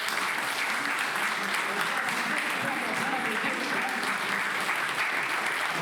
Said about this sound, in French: Donc déjà on peut applaudir.